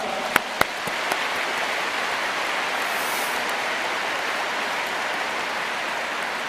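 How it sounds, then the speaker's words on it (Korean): Audience applause at a Korean Unification Church ceremony celebrating the True Parents' birthday, a dense, steady wash of clapping that begins after a few sharp claps and holds evenly throughout. "여러분 박수를 좀 보내주시기 바랍니다"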